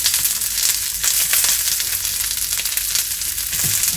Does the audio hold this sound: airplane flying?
no